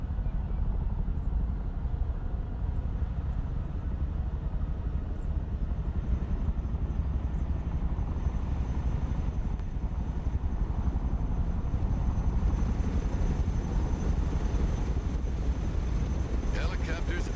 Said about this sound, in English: Helicopters are impressive machines. Boy, are they noisy.